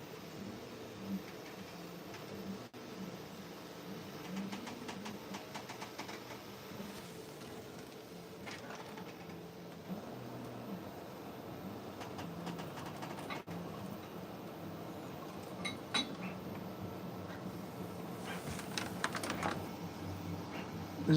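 Intermittent clicking from an LDO Voron Trident 3D printer in a home workshop, light repeated ticks over a steady mechanical hum, moderately close, with scattered louder clicks toward the end.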